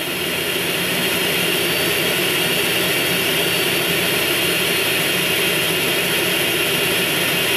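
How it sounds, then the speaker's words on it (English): A private jet's engines roaring in flight in GTA San Andreas, a loud steady broadband jet roar that holds constant throughout with no talking. "Well, we're gonna fly the jet back to the airport."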